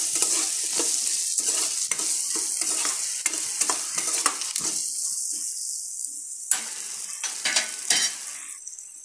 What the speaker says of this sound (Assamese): দি আৰু অলপমান ভাজি ল'লোঁ।